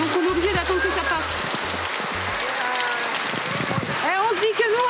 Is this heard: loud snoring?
no